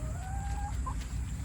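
Chickens in a homestead coop give a few short clucks and a rising call over a low, steady background hum, close by and with no talking.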